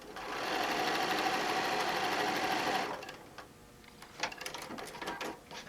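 A sewing machine runs steadily for about three seconds, stitching fabric seams for a name tag and phone bag, then stops, leaving quieter clicks and handling sounds.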